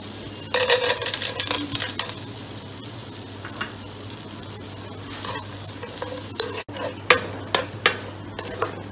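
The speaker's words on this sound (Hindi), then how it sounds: "इस मक्खन में हमने पिस्ता बादाम अपने उसको भून लेना है" Pistachios and almonds roasting in melted butter in a kadai, a close, lively sizzle with repeated spoon scrapes and clinks against the pan, busier at the start and again near the end.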